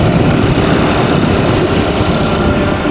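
A pocket bike motor running, a loud, steady, high-pitched buzzing drone heard close up without a break.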